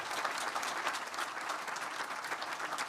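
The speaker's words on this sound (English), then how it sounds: "Let's continue the round of applause for all our wonderful volunteers" Sustained, dense applause from a large conference audience in a hotel hall, steady and loud throughout with no voices standing out.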